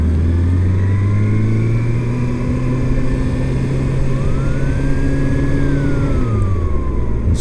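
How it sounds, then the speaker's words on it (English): Emergency vehicle sirens wail at night near a 2019 Ninja ZX-6R motorcycle, loud and steady, with rising and falling tones over a constant engine drone. "Oh, we got sirens and lights up here."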